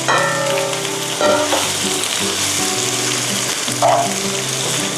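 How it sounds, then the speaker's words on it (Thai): Steady, loud sizzling of sliced pork and shrimp stir-frying in a hot pan, with brief bursts of stirring and scraping with a spatula, no voices. "ผัดหมูกับกุ้งนะคะ ให้พอสุก"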